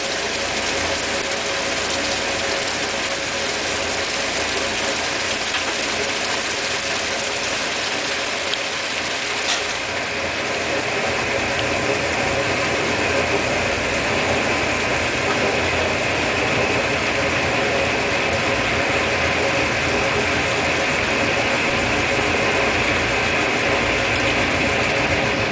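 A 1958 Dominion Automatic Maiden Wash washing machine with a solid tub runs its spin cycle, a steady, fairly quiet mechanical whir with faint ratcheting and gear noise continuing without pause.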